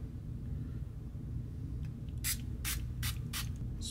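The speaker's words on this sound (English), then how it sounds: "then we're gonna spray that down" Liquid sprayed from a spray bottle onto a Samsung Galaxy Z Fold 3 screen after peeling off the protector: four short, close hissing bursts in steady rhythm over a low background hum, with no speech.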